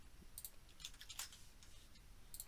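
A computer keyboard typing a short command, heard as a few quiet, close key clicks in small bursts against a faint hum, with no voices.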